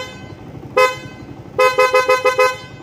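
A car horn wired to a hollow switch with passing light sounds one short loud toot, then a quick burst of about six sharp honks in a row.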